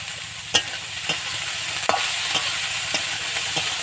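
Potatoes and flat beans sizzle steadily in a hot pan where drumstick flowers are about to go in, a utensil scraping and stirring with sharp clicks roughly every half second to second over the continuous frying hiss.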